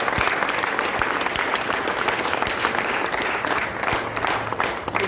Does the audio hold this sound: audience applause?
yes